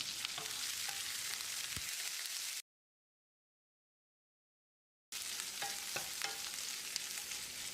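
Steady, dense sizzling of cashews and spices being stir-fried in a hot pan for upma, with a few light clinks, cut by a stretch of silence midway.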